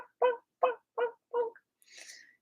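A human voice imitates a chicken during a chicken dance, giving four evenly spaced, close clucking calls followed by a breathy, airy exhale.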